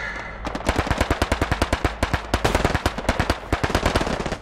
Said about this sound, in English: Oh, MG42.